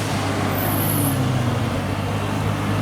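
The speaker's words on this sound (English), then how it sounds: "Oh, that sounds like the GTR is back." A Nissan GT-R runs at a car meet with a loud, steady engine drone and road-traffic roar that holds continuously throughout.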